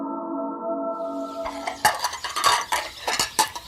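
Dishes and cutlery clatter during washing up at home, opening on a steady tonal hum before a run of close, loud clinks and knocks of plates and utensils with no talking.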